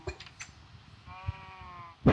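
Minecraft sheep bleating in a sky block game, a single wavering bleat with a few faint soft game noises around it and a sharp thump at the end.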